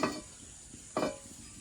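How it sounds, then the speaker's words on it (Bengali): Oil heating in a kadai, a faint low sizzle with two brief scraping or stirring touches against the pan, close and quiet, no voices. "কড়াইতে তেল দিয়ে দিয়েছি, তেলটা গরম হয়ে গেছে।"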